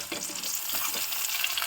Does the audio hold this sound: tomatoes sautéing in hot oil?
yes